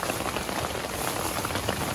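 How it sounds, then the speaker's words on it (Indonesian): Dense, even patter of light drizzle falling on a surface at a mountain campsite, close and constant throughout, with no speech. "Di sini lagi gerimis nih."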